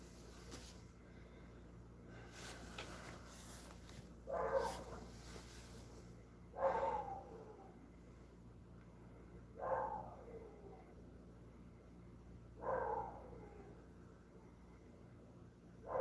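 A dog gives four short, muffled barks or snorts spaced a couple of seconds apart, fairly faint against a quiet background hum.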